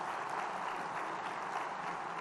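A short burst of steady church congregation applause during a sermon, many hands clapping together, evenly sustained and moderately loud throughout.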